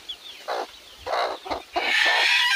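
Native hens with chicks hatched about a day earlier cluck in a run of short, loud bursts close by, with thin high chick peeps threading through and a denser stretch of calling at the end.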